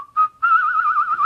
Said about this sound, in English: they're still trying to keep this theme of this odd little whistle